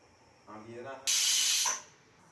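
Steam hisses loudly from a pressure cooker cooking chana dal, a single sharp burst of under a second that follows a brief stretch of talking.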